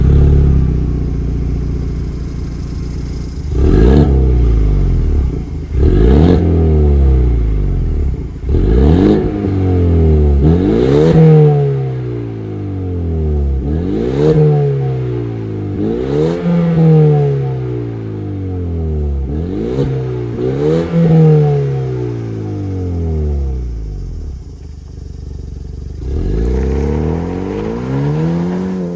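A 2024 Ford Mustang with the 2.3 liter EcoBoost turbocharged four-cylinder revs repeatedly, each sharp climb rising to a loud peak and then falling back to idle, about a dozen throttle blips one after another with no voices.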